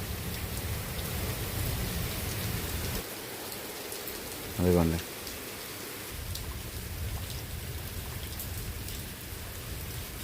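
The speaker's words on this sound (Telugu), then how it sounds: "వచ్చేసరికి వర్షం ఏమో కుమ్మేస్తుంది." Heavy rain pours steadily outdoors at night, a dense, even hiss of downpour that briefly dips before a short voice speaks, then resumes; no distinct thunder stands out.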